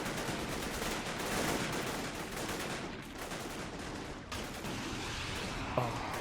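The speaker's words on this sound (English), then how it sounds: "Oh, more explosions." Constant dense rumble of distant gunfire, rocket fire and explosions at a coastal fort in the video game Men of War Assault Squad 2, a steady wall of battle noise with no clear individual shots standing out.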